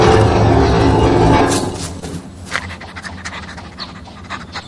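A dog pants heavily and rapidly up close, the breathy huffing strong at first and then easing into softer, scattered panting and small rustles.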